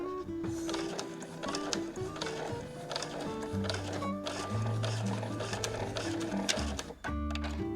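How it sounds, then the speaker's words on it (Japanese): A sewing machine stitches the seams of a fur tote bag, running steadily and close with a whirring, rapid needle rhythm. Its pitch shifts slightly as the speed changes, and no one talks over it. "そしたら縫い目を重ねてここまで縫うようにしましょう。"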